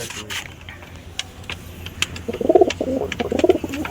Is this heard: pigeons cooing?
yes